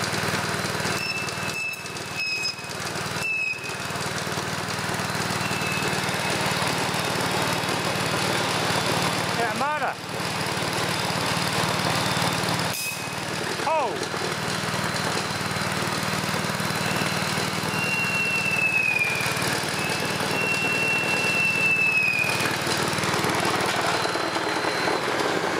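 A Fisher & Paykel Smart Drive washing machine motor is run as a high-voltage generator, giving a steady, loud mechanical hum and whine throughout, with a few brief clicks and a rising whistle partway through.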